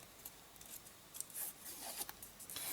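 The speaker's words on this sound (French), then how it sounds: "je fais simplement glisser mon plioir contre mon papier pour pouvoir, vous le voyez, obtenir un arrondi naturel de notre papier" A bone folder slides repeatedly along a strip of paper to curve it for a small gift bag, producing soft, faint scraping and rubbing strokes in an irregular rhythm, close by with no talk.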